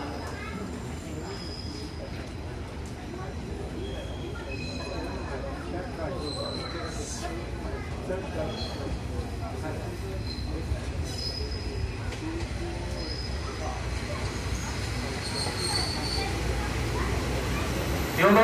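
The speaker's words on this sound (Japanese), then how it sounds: "4番線ご注意ください。列車到着いたします。" A four-car Kanto Railway Joso Line 2300-series train rolls into Moriya Station with a steady rumble, squealing wheels and clanking, growing louder over time, with Japanese platform announcements and voices faintly under it.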